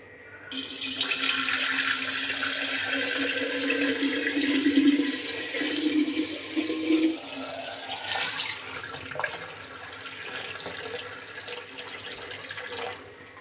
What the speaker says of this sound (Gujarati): હવે આપણે આ માટલામાં છે ને પીવાના પાણીને એડ કરી દઈશું